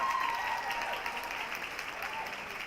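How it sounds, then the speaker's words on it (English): Applause at an investor relations awards ceremony as a stockbrokerage award is presented, a fairly faint, steady wash of clapping from the crowd with faint background voices underneath. "Give her a round of applause for me, guys."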